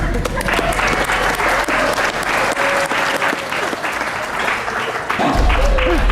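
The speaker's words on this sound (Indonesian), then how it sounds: "Tepuk tangan." A studio audience at an Indonesian comedy variety show breaks into steady, loud applause, dense clapping that runs the whole time and swells again near the end.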